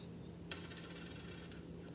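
Coins from a small collection are handled for counting, producing a sudden bright metallic jingle and clatter that rings on for about a second, close and alone.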